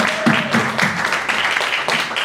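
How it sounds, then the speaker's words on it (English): An audience applauds contestants after a competition round, a steady patter of many hands clapping at moderate volume with no talking. "I think all of these three deserve some applause for that."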